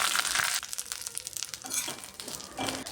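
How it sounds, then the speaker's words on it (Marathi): Curry leaves roast in two spoons of oil in a kadhai, crackling and spitting in close, uneven bursts. The noise is loud at first and thins out toward a quieter sizzle. "कढीपत्ता भाजताना सुरुवातीला तडतडतो"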